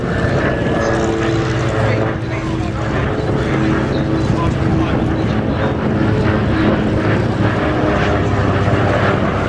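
A vintage propeller aircraft flies close and loud at an airshow, its engine a constant droning roar that continues steadily, with a commentator's voice over it.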